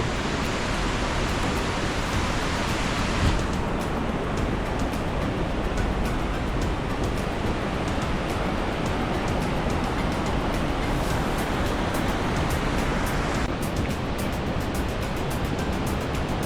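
Krimml Waterfalls in Austria roar steadily and loudly, a dense unbroken rush of falling water close by that holds its force from start to finish with no voices.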